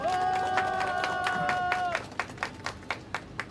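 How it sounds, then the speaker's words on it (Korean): Applause at an outdoor campaign rally in Yeongdeungpo, Seoul, starting under loud tonal sound and crowd noise, then thinning into a few distinct sharp claps repeating at a steady pace. "뜨거운 박수 보내주시면 감사하겠습니다."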